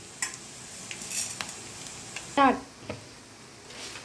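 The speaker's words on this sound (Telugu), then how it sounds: "వీటన్నిటి బాగా సన్నసేగర వేయించండి." Urad dal, coriander seeds, cumin and dry red chillies dry-roast in a pan, giving faint scraping stirs with one brief, louder clatter of the spoon midway over a soft background.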